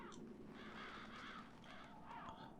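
Crows caw in the dark fantasy game Demon's Souls, several harsh calls layered over a steady ambient wash, moderately close with no talk over them.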